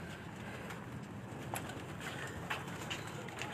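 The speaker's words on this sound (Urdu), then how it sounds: "یہ سب پروازی کبوتر ہیں ان کے" Flying-breed pigeons cooing at a pigeon keeper's home in Sialkot, soft low calls scattered through a steady noisy background with a few brief sharper sounds.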